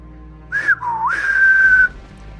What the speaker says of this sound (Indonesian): Habis berkata begitu, Baju Gombrong keluarkan suara bersiul.